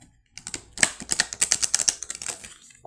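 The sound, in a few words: shuffling a deck of cards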